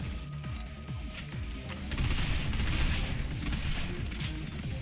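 Gunfire in the video game Binary Domain, rapid bursts of shots rattling over a dense, rumbling battle backdrop that swells louder midway.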